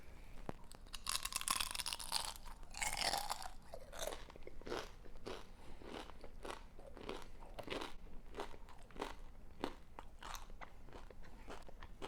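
Loud, crisp crunching of air-fried yuca chips being bitten and chewed up close, a steady run of sharp crackly bites with no talking.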